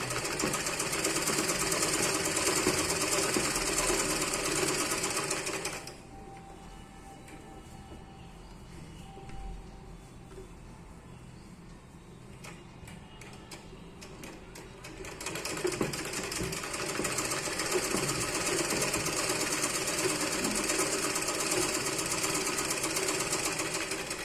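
A home sewing machine stitches fabric with a fast, steady mechanical whir. It drops quieter for about ten seconds in the middle as it slows, then runs at full speed again, close by with no talk.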